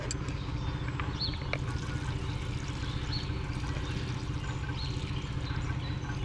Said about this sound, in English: I'm pouring dirty water in his grass.